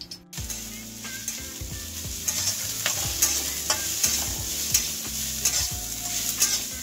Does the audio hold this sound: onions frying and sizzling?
yes